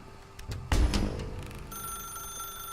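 A telephone rings in The Stanley Parable, first as a few sharp knocks and a loud thump, then as a steady electronic bell tone that keeps sounding alone at moderate volume.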